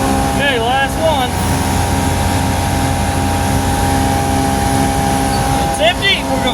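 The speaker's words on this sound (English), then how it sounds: "Now we're going to shut our blower off." Blower running on a pneumatic trailer during unloading, a loud steady droning hum with constant tones throughout, with a voice talking briefly over it at the start and near the end.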